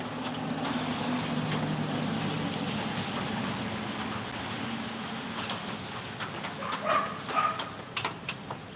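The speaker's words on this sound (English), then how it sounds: "The neighbor's dogs are trying to say hello to my dogs." Dogs barking in the distance, a few scattered barks over a low steady rumble of background noise, growing more frequent toward the end.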